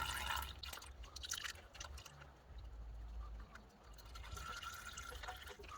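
Old engine oil drains from a 2003 Ford Thunderbird, a steady, faint trickling pour with low rumbling underneath.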